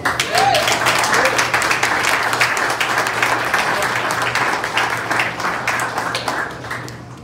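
Audience applause for Tommy, a campaign helper honoured at a TUC event in Suffolk County, a dense, sustained round of clapping from a crowd that stays loud throughout before easing slightly at the end.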